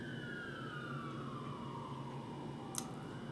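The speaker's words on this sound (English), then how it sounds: "Do you hear those police sirens?" A police car siren wails steadily at a distance, its long drawn-out tone sliding slowly downward over a low background rumble, with a brief sharp click near the end.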